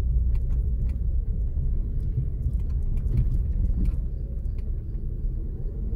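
Low steady rumble of an SUV rolling over a paving-block road, heard from inside the cabin as a dense tire drone with faint rattles and ticks above it.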